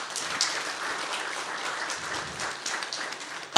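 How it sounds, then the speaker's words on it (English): A theater audience at an environmental justice speaker event claps steadily for a few seconds, an even patter of many hands, moderately close, without voices over it. "Let's give them all a round of applause as well."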